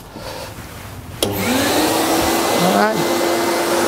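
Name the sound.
vacuum cleaner running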